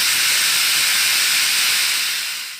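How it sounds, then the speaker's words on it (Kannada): Steam hisses sharply from a pressure cooker on a gas stove cooking potatoes and tomatoes, a loud, continuous rushing sound that tapers off over a couple of seconds with no talking. "ಗ್ಯಾಸ್ ಮೇಲೆ ವಿಸಿಲ್ ಹೊಡ್ಸೋಕೆ ಇಡಬೇಕು."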